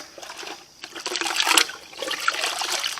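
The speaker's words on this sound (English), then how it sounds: "I'm going to stir it a little." A leftover tomato seed mixture from Cherokee Purple heirlooms is stirred in liquid, giving soft, uneven sloshing and trickling swirls that swell and fade over a few seconds, close by and moderately quiet.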